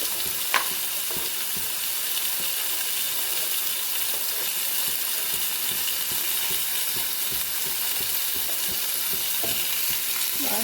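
Vegetables frying in a pan with salt and turmeric, a continuous close sizzle with frequent scraping stirs and light utensil taps throughout, no voices.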